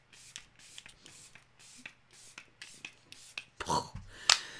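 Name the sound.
spraying Anastasia Impeccable Setting Spray on face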